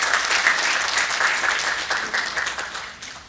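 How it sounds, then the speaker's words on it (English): An audience at a financial-industry panel discussion on lending technology claps, a lively burst of many hands that stays loud, then fades and briefly picks back up before tapering off. "Can we have a huge round of applause for him, please?"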